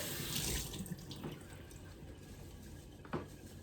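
Tap water runs steadily into a kitchen sink during Instant Pot carnitas prep, a continuous hissing splash with a few brief clinks and a small burst near the end, no talking.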